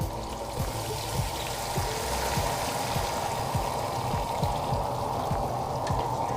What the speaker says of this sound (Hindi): अब जो है 3 गिलास पानी ऐड करेंगे इसमें